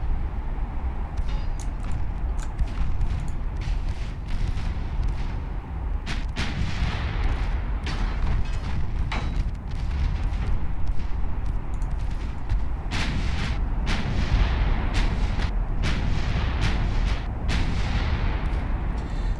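Nine-inch naval guns firing in a steady barrage in Ultimate Admiral Dreadnoughts, heavy booming shots and sharp cracks repeating over a constant low rumble of battle.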